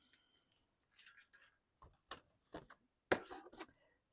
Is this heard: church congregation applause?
no